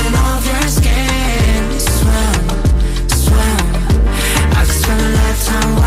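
An Afrobeat remix of a song plays as loud, dense music with a punchy, bouncing percussive groove and deep bass hits, steady throughout.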